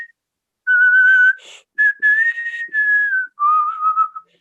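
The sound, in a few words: whistling a song melody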